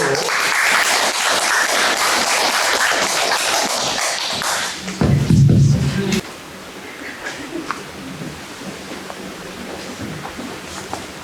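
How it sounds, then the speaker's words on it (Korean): A crowd at a Korean religious gathering claps loudly and steadily for several seconds, then tapers into a few scattered claps after a brief thumping noise. "큰 박수로."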